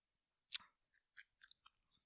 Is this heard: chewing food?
yes